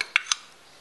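A spoon mixing coarsely ground pickle spices with salt, chilli and turmeric for gooseberry pickle: two quick, close metallic clinks against a bowl, then a faint scraping fade.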